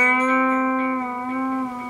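An electric guitar note is bent up a half step, held and then released, sustaining smoothly and alone, close and clear for about two seconds.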